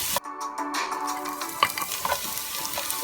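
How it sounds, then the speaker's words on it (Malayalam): Spring onion sizzles and crackles loudly as it is stir-fried in a hot pan for restaurant-style chicken fried rice, with continuous frying hiss and scraping stirs close by. "അതിന് ശേഷം സ്പ്രിംഗ് ഓനിയൻ ഇട്ട് കൊടുക്കാം. ഇതൊരു 2 മിനിറ്റ് നേരം ഒന്ന് ഇങ്ങനെ ഇതുപോലെ ഇളക്കി കൊടുക്കാം."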